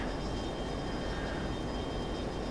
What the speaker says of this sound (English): So that's an enemy transport plane. And if we have a look at it, it's got the 4 turboprop engines.